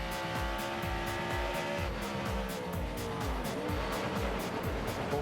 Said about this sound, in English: he finds out where the limit is on that wheel hop getting into turn 10